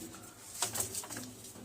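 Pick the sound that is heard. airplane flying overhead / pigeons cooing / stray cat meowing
pigeons cooing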